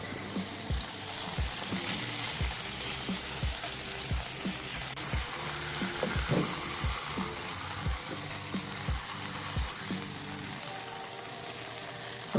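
Ribeye steaks sear in a pan with steady, dense sizzling and crackling and a faint rhythmic ticking throughout, close and continuous with no talking.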